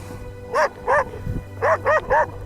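A dog barks repeatedly outdoors, caught by a trail camera: six sharp, fairly close barks come in two uneven bursts over a low steady background hum.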